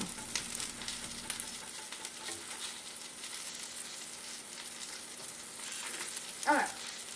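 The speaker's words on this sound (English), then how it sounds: "This end's like sizzling." Food frying in a pan while a meal is cooked, a steady faint hiss and crackle of sizzling fat running throughout with a small clatter near the end.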